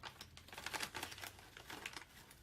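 A tough vegetable chip bag handled close by, with fairly quiet crinkling and crackling in irregular bursts and no voices.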